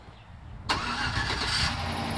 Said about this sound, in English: Factory remote start.